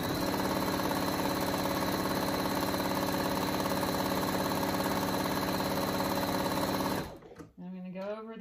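A sewing machine runs steadily for about seven seconds while stitching a seam on a fabric kangaroo hanging pouch, then stops abruptly and a voice speaks briefly.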